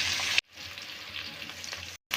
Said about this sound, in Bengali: এগুলো এখন আমি একটু করে ভেজে নেবো